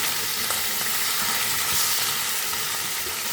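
Sweet pumpkin sizzles and fries in a hot wok, a steady dense crackling hiss with faint stirring scrapes running through the whole stretch, close and fairly loud with no talk.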